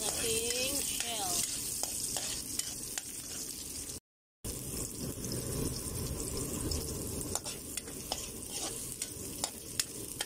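Steady sizzling and crackling of shellfish (tamislat) frying in a hot pan for adobo, with occasional stirring clatter, close and continuous apart from a brief cut.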